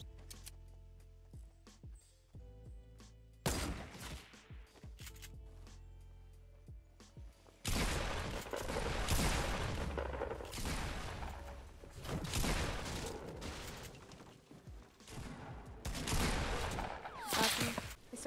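Gunfire erupts in a Fortnite match, with scattered clicky shots and mechanical sounds early on, then a dense, louder barrage of rapid shooting from about eight seconds to the end.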